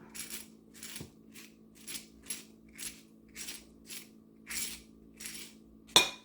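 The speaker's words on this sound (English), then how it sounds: "take the end of my peeler, I can do this right here, and just, seeds will come right out" A vegetable peeler's tip scrapes seeds from produce for gazpacho in a series of about a dozen short, bright scratchy strokes at a steady rhythm, close up, ending with a sharper clack.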